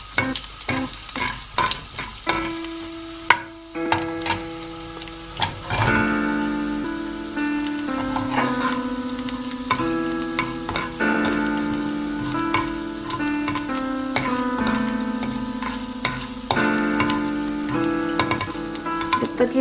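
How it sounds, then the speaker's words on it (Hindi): Vermicelli fries in a pan over a medium flame on the way to light brown, giving a continuous close sizzle with occasional stirring scrapes under steady background music. "अब इसको तब तक फ्राई कीजिए जब तक ये ब्राउन होते हैं।"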